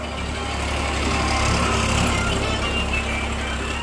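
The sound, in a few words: tractor driven over harvested rice stalks to thresh grain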